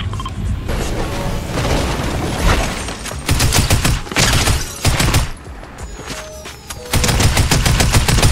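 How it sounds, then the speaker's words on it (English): Gunfire aimed at the player in a Star Wars video game: loud, close rapid automatic bursts in several rattling volleys with brief pauses between, mixed with booms and mechanical clatter. "Why are you shooting at me this early?"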